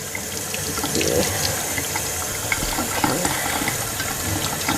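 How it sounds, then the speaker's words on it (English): Tap water runs steadily into a sink as an incense bowl is rinsed to wash out sand, a continuous close splashing wash with small clinks and shifts of the bowl under the stream. "I'm going to start running it under the water."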